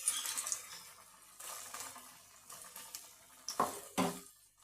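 Onion pakoras dipped in gram flour batter hiss and sizzle as they drop into hot oil, with intermittent bursts of crackling and soft stirring clatter, fairly quiet and close.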